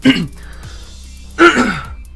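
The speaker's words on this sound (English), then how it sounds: "Obviously I'm coughing, why wouldn't I be?" A man gives two short, sharp coughs, close to the microphone, during a Pokémon tournament commentary, separated by a pause of just over a second with faint room noise between them.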